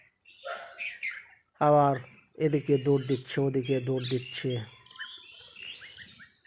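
Bulbul birds chirp in short bright bursts on a rooftop, heard at the start and end around someone talking over them.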